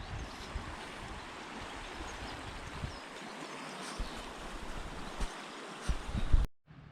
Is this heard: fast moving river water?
yes